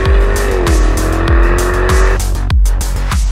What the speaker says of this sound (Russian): Я только что запустил автомобиль в дрифт.